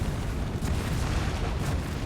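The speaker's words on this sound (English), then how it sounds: "You hear the fireworks going off in the background" Video-game fireworks in Trek to Yomi go off in the background, two muffled booms about a second apart rising out of a continuous low rumble.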